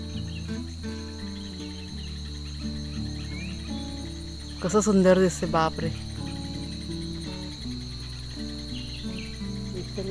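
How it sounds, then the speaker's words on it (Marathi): Crickets and insects trill steadily outdoors at sunset while birds call in the background, with someone briefly speaking over the chorus midway. "त्यात परत पक्ष्यांचा आवाज घ्या."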